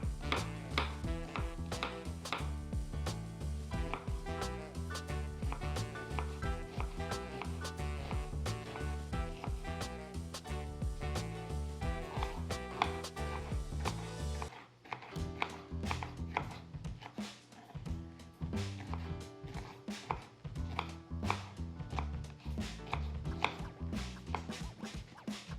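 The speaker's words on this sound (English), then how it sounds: "So here we have a block of tofu, a half an onion and a half a pepper that we're going to chop nicely." A knife chopping a block of tofu, half an onion and half a pepper on a cutting board, with rapid, steady, close knocks over a long stretch and a brief pause partway through.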